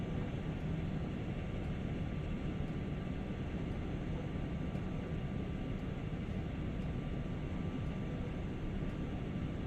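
A train runs on the East Coastway line between Brighton and Eastbourne in the video game Train Sim World 2020. A quiet, steady, unbroken rumble carries on with no talking.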